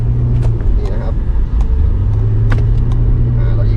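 A BMW E46 323i with a Tiptronic automatic gearbox is driven while the gears are tested, giving a steady, loud low engine and road rumble heard from inside the car. Faint clicks and knocks rise above the rumble.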